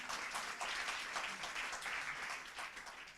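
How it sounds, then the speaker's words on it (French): Audience applause at a French fundraising seminar, a steady wash of many hands clapping, fairly distant and soft, continuing evenly throughout. "Applaudissements pour l'accent de Virginie."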